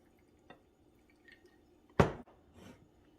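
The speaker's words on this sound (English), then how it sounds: "We're gonna go ahead and pour in some of our margarita." A margarita is poured into a glass holding ice and lime and orange wedges, one short, close splash and clink against the ice after a few faint drips, with quiet surroundings otherwise.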